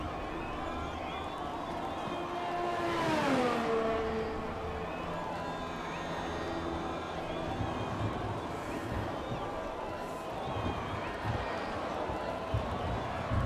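Formula 1 race car from the F1 2020 game at the Austrian Grand Prix in Spielberg, its engine whining steadily with a clear rising and falling pitch sweep early on, then droning continuously under broadband track noise.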